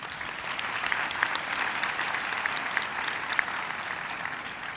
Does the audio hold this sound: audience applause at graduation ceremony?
yes